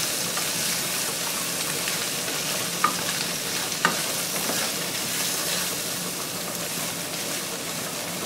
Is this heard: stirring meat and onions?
yes